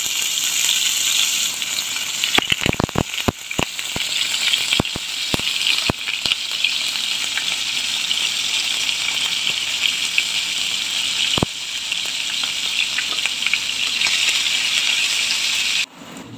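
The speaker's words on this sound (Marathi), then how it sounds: "बघा अशा प्रकारे मी पनीर फ्राय करून घेतले" Diced paneer frying in hot oil in a pan, a loud, steady, close sizzle throughout with scattered sharp pops and crackles early on and a brief drop near the end.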